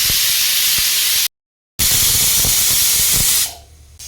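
A pressure cooker cooking mixed vegetable curry vents steam in a loud, steady hiss that breaks off briefly, resumes, then fades away near the end.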